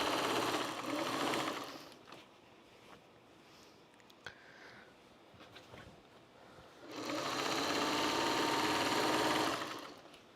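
A sewing machine stitches a quilt border in two loud, steady whirring runs, one at the start and one near the end, with a quieter pause in between filled by faint handling of fabric.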